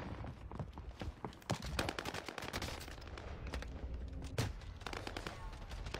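Video game gunfire sounds in rapid, crackling bursts of automatic shots, dense and continuous at moderate level throughout, with little pause between volleys.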